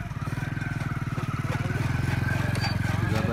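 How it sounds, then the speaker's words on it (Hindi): Fodder cutting machine run by a motorcycle engine, a rapid steady mechanical chugging with rhythmic clatter that grows slightly louder, heard up close. "ये चारा बाइक की मदद से ये मशीन चलाएंगे चारे वाले"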